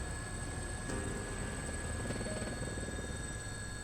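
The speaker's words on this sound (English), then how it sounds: "is that a helicopter I hear in the background?" A helicopter in Persona 4 Arena Ultimax drones steadily in the background, a constant faint buzzing whir under game music.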